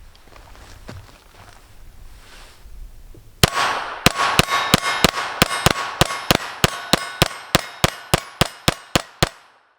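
A Sig P322 pistol fires Aguila 38 grain hollow point rounds in a rapid string of about seventeen sharp, loud cracks at a steady fast pace, after a few seconds of quiet background noise.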